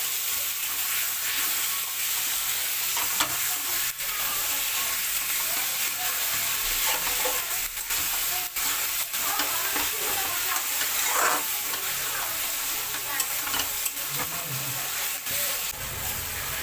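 Mutton pieces sear and are stirred in a pan, a continuous dense sizzling hiss with scattered scraping strokes, close and steady throughout with no speech.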